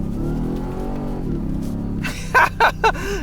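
A Ford F-150 Raptor R truck engine revs hard in Baja off-road mode, a loud rising drone followed by several sharp bursts as it downshifts and the revs shoot up.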